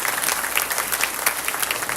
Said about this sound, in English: can we start by giving Nitin Uncle a big round of applause, please?